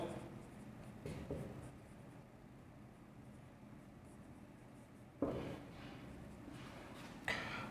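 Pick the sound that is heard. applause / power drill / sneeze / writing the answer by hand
writing the answer by hand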